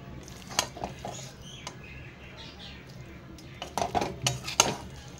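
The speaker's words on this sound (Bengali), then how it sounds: "আমি কড়াই থেকে সবজিটাকে নামিয়ে নেব" Cooked yardlong beans with peanuts are scraped out of a kadai with a metal spoon, giving scattered sharp clinks and scrapes, sparse at first and then clustered near the end.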